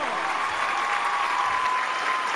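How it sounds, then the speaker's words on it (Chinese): A crowd at an MMA event applauds as a fighter from Ukraine is introduced, a steady dense burst of clapping filling the hall, loud and even throughout. "掌声送给来自乌克兰瓦里西杨克"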